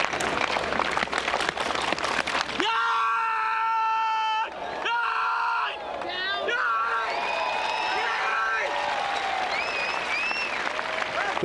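An Egyptian junior hammer thrower at a world youth athletics championship lets out a long, loud sustained scream during the throw, rising over crowd noise and commentary, followed by cheering and applause.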